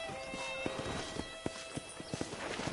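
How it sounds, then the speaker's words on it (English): Hooves of wild horses in the video game Red Dead Redemption clip-clop in a steady run of hard thuds over a bed of music and ambient noise, with a faint whinny in the mix. "there's a pack of wild horses nearby"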